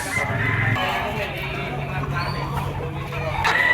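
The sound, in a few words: white-legged Boston banderado rooster at market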